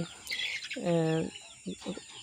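Young desi chickens, about two months old, cluck close by in short bursts, with one drawn-out squawk in the middle and soft clucks following.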